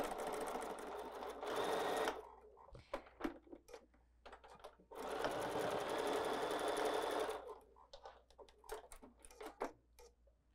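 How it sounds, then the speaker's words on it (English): A sewing machine stitches a quarter-inch seam for a quilted fabric wall hanging in two sustained whirring runs, each followed by a scatter of sharp clicks and taps as the fabric is handled. "Let's just go to our sewing machine right now."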